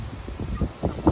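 Strong wind buffets the microphone outdoors in a California vegetable garden, producing low, uneven rumbling gusts that swell and fade several times in close succession, with no talking.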